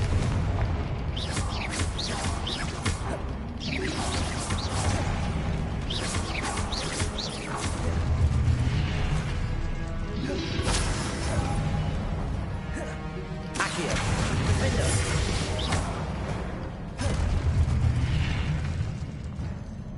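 Confringo fire-spell blasts in Hogwarts Legacy on PS5, loud rumbling explosions and crashing bursts that roll on nearly without a break, with surges of booming impact layered over dense game effects.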